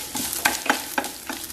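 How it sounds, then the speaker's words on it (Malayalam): Grated coconut frying in oil over a high flame as it is stirred, giving a steady sizzle broken by a few sharp scraping strokes of the spoon against the pan. "ഹൈ ഫ്ലെയിമിലിട്ട് തന്നെ ഇളക്കി ഇളക്കി വറുത്താൽ മതി."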